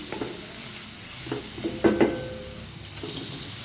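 Onion pieces fry with salt and turmeric for a gravy curry, a gentle, continuous sizzle close by, broken by a few soft spatula scrapes and knocks against the pan.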